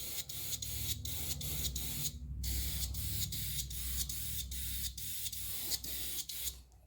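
Spray gun misting varnish onto a Revell 1/700 scale Bismarck model hull, a steady close hiss broken by regular short pauses as the trigger is released, continuing in repeated bursts.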